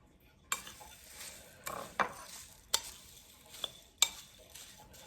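Puffed rice being mixed by hand with onion fritters, onion and green chilli in a bowl: a series of sharp scraping and rustling strokes, roughly one every second, close and fairly quiet.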